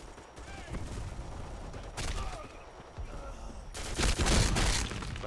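Rapid gunfire from a heavy-recoil gun in the online shooter Black Squad, with bursts of shots and a louder barrage near the end, under someone talking.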